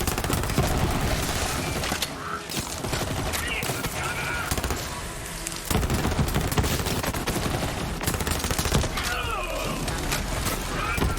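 Rapid bursts from the Night Hawkin submachine gun in Borderlands 3 hammer against a crowd of regular enemies, dense and loud with brief gaps, explosive thumps and effects mixed in.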